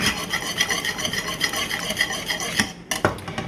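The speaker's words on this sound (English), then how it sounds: "And stir it up a little bit more." A spoon stirs banana pudding cheesecake mixture in a pot, giving a continuous, rhythmic scraping and swishing close up. A brief pause comes near the end before the stirring resumes.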